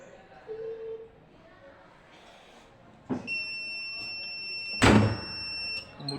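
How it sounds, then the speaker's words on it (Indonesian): A heat press machine sounds a clear electronic tone twice after a couple of thuds when pressing ends, steady and piercing, with a clunk and movement noise around it. "Tunggu sampai waktu pengepresan selesai dan berbunyi bip"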